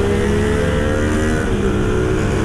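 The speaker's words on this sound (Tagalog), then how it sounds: "Ang ganda naman ng arangkada ng big bike" A big bike motorcycle pulling away hard on a road, its engine roaring in a loud, steady drone close by, with the rumble of other traffic around it.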